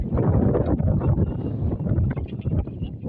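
Wind gusts buffet the microphone in a steady rough rumble, rising and falling slightly throughout.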